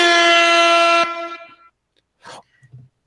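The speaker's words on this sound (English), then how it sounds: "big air horns for this match" A loud, blaring air horn sound effect on a wrestling talk show sounds for about a second, then cuts off, followed by a brief rustle and a small thud.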